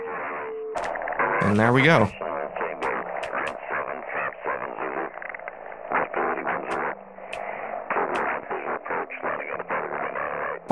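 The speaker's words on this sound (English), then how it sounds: "you can hear those tones going down as I tune" A radio receiver emits warbling heterodyne tones that sweep downward as it is tuned, mixed with distorted talk from the broadcast and someone speaking nearby.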